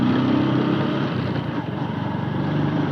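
Close, continuous engine noise from a motorcycle with a problem, a rough steady drone that dips briefly midway before resuming.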